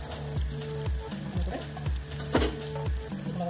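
Potato and chana dal pakoras crackle and sizzle steadily in hot oil, a close, dense frying hiss with rhythmic scraping strokes repeating about every half second.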